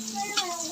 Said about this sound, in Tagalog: Yan, lagyan natin sibuyas.